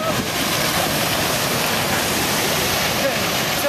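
Abram Falls waterfall in the Great Smoky Mountains: a steady, loud, close rushing roar of falling water that fills the whole clip without a break.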